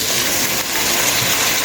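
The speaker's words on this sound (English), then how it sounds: "Add a little water to it." Water is poured into a cooking dish in one steady, loud splashing gush that runs throughout without a break, close up and with no speech.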